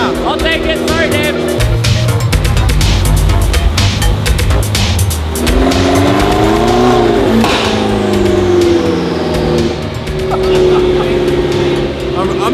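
Revving engine of a modified McLaren 12C sports car, loud and continuous with rising and falling throttle sweeps across the clip, heard close under people talking.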